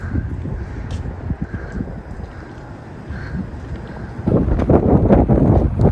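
Gusty wind buffets the microphone with low rumbling bursts, growing noticeably stronger and louder near the end, as snow falls in Calgary, Canada.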